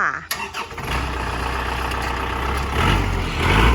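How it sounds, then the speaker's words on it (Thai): A Kubota L5018SP farm tractor's diesel engine cranks briefly, fires up and settles into a loud, steady low rumble of idling close by. "มาฟังเสียงเครื่องกันเลยค่ะ"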